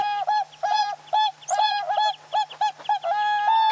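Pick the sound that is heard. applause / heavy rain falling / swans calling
swans calling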